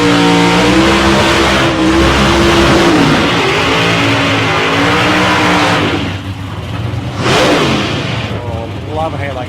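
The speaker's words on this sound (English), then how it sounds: "the violence of the roar in that car" A Camaro drag race car roars hard at South Coast Raceway, a loud, continuous engine howl with rising and falling tones through the run, then easing briefly before surging again near the end, with voices heard under the din.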